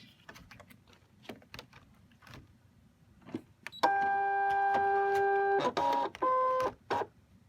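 A Brother ScanNCut CM350 loading for a scan, with taps and clicks first, then a steady tonal motor whine that stops and restarts in a few short runs.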